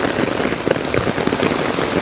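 Heavy monsoon rain pouring steadily onto a flooded street, a dense, even hiss of drops close by with no voices.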